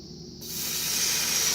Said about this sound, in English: We're going to start adding the milk, nice and slow. Remember, we're putting a cold liquid into a hot pan.